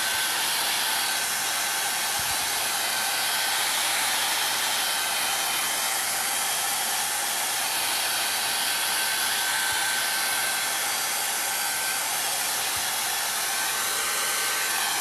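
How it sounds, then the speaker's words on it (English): A hair dryer on its cool setting blows steadily to dry the painted background of a mixed media canvas craft. It gives a loud, continuous high whirring hiss with a faint tonal whine for the full fifteen seconds. "I'm going to blow dry my background"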